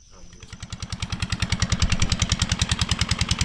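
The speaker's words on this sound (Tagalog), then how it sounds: "magpapandar tayo makina." A farm water pump engine is pulled into life and settles into a steady, rapid chugging beat that grows louder and stays close throughout, with a voice briefly heard under it.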